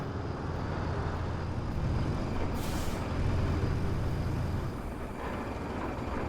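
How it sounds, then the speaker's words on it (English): Heavy construction trucks drive in the Roadcraft game, a loud continuous diesel rumble with a sharp hissing burst of air brakes midway and a fainter hiss later. "It sounds like there's multiple trucks driving."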